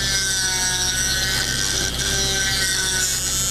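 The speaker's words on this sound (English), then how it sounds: "To score the inside of the hole, I use this little abrasive bit that I bought from Dremel." A small Dremel abrasive bit scores scratch lines inside a hole in a hand mirror handle, giving a continuous high, steady grinding whine close by with no breaks.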